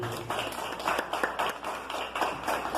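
An audience at a slam poetry event in Haiti claps in an uneven, fairly soft burst of applause. The clapping sounds near and is spread across the whole few seconds, with no talking.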